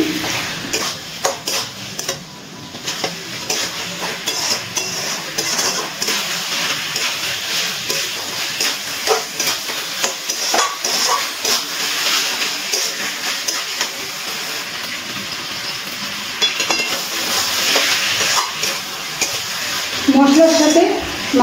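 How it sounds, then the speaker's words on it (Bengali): Chicken pieces are stirred with spices in a pan for a Bengali chicken and potato curry, giving a continuous scraping, clattering rhythm of a utensil against metal with faint sizzling. A voice talks over the stirring. "এবারে মশলার সাথে মাংসগুলোকে ভালো করে নাড়াচাড়া করে মিশিয়ে নিচ্ছি।"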